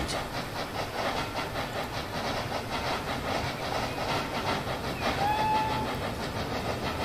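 Short steam train whistle from Transport Fever, a clear tonal blast near the end over steady rumbling rail and hissing steam, with no voices.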